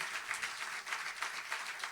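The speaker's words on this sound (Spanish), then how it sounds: "Eso merece un aplauso." A church congregation applauds during a sermon with a steady wash of many hands clapping. It sounds somewhat distant and moderately soft, and no voices rise above it.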